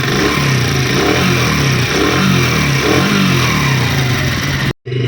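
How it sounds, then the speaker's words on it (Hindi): Motorcycle engine running steadily after a complete refit to cure a noisy engine, a loud close mechanical drone with a throbbing low rhythm that holds for about five seconds before cutting off abruptly near the end. "अब दोस्तों मुकम्मल फिटिंग करने के बाद इंजन की आवाज़ सुनें।"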